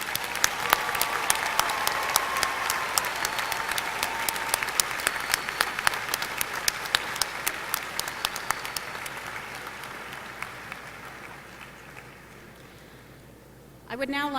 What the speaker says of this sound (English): Please join me in a round of applause for our newest doctoral recipients.